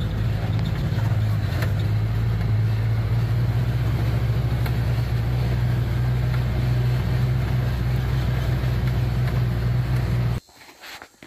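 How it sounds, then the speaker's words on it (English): An older Polaris Ranger utility vehicle drives with a loud, steady engine drone and rumble throughout, then cuts away abruptly near the end. No one speaks. "So we're in our Polaris Ranger, it's the older one. We'll ride back here and see what's going on."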